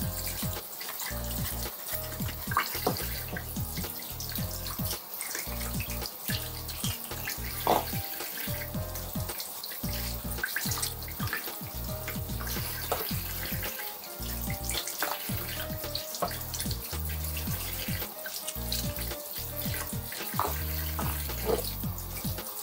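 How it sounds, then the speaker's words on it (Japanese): Shower water runs steadily into a bathtub drain, rinsing it out after a cleaning with Kitchen Haiter bleach; a close, continuous splashing wash with no talking. "一通り洗いましたのですすいでいきます。"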